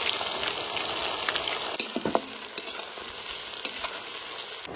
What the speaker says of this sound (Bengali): এবার দেবো কুচনো পেঁয়াজ